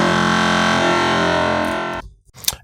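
Heavily distorted tone from Bitwig Studio's Amp device with reverb in the pre stage, a dense buzzing sustained sound that cuts off after two seconds, followed by a brief reverberant tail and a short bright burst.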